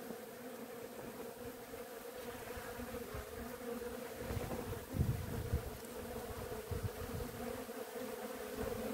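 Bees working the flowering catkins of a Garibaldi hazelnut, a dense continuous buzzing swarm heard up close and steady throughout, with occasional louder passes.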